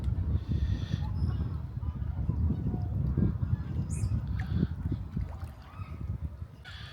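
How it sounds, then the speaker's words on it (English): Cape Barren geese honking outdoors in short, irregular calls over steady low background noise, with people talking nearby at times. "This is the Cape Baron Goose, aka Tank Goose."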